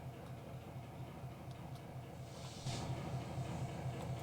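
Railcars coupling in a train simulator game on the Pennsylvania & Berwind line: a steady rumbling train bed with a hissing burst of air and a clunk partway through, continuing at a slightly louder level.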